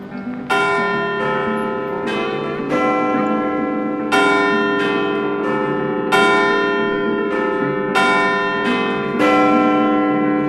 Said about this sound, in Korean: 이 종소리는 영국의 랜드마크 빅벤탑에서 울리는 종소리를 전자음으로 바꾼 것이다